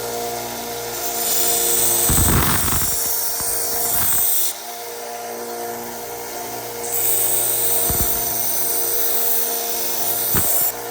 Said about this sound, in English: I'm going to run this on the slack part of the belt sander where there's no platen, and that just kind of blends it in.